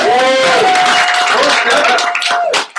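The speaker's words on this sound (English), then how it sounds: "Can I get a clap on that?" Dense audience clapping at a business presentation, loud and close, with cheering or whooping voices over the applause before it breaks off near the end.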